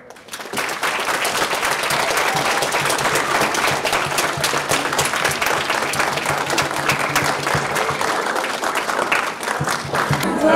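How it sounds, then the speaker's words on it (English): A middle school audience in a school presentation bursts into sustained, dense applause, steady and loud for about ten seconds, with no talking over it. "I would like us to show our gratitude with an applause for Tyler getting"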